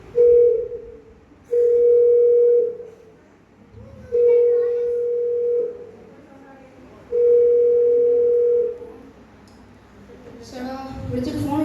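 A phone call rings out unanswered: four long, steady ringback tones separated by even pauses, then a brief burst of rustling noise at the end.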